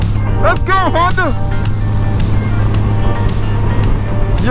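A 2024 Honda Gold Wing with DCT rides along as a steady low engine drone and wind roar fill the background, with voices calling out over it.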